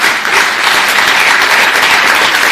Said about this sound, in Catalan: Demano un aplaudiment per tots ells